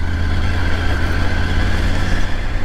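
A Triumph Tiger Rally Pro 900 motorcycle riding along a road, a loud steady engine drone mixed with wind rush, holding an even pitch throughout.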